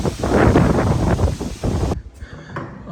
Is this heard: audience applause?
no